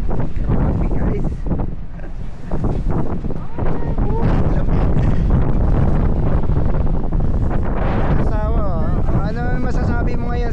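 Loud, constant wind buffeting the microphone with a heavy roar throughout, while people talk over it.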